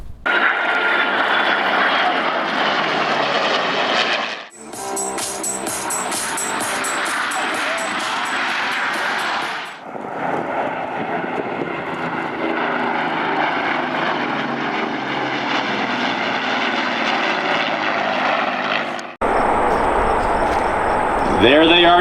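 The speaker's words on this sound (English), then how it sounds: "The team is starting their takeoff roll." An aircraft team starts its takeoff roll at the Airshow London 2024 Saturday show: loud, continuous propeller engine roar that swells and shifts in pitch through several abrupt cuts, with people talking under the noise.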